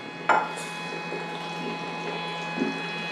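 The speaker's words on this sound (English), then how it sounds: "I'm going to pour into the glass cup to show you the color." Lemongrass hydrosol poured into a glass cup: a sharp clink at the start, then a soft quiet trickle of liquid with a faint knock near the end.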